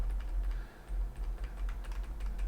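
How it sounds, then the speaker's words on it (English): Short clicking taps of arrow keys on a computer keyboard, a quick irregular run of light key presses close to the mic over a low steady hum, with no talk. "if I hit arrow left or right"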